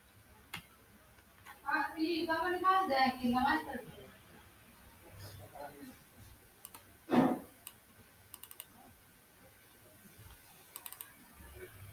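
A computer mouse makes a few light, isolated clicks while a photo is uploaded to an online shop page, after a stretch of speech.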